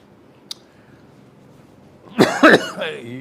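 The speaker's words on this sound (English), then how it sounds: "You'll have to excuse me, my cough." A quiet room with a single faint click, then a harsh burst of two or three close coughs, followed by a short rough clearing of the throat.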